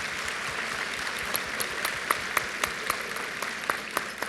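Audience applause closing a presentation at an education forum: steady, fairly soft clapping from a small group, with a few sharper individual claps standing out over four seconds.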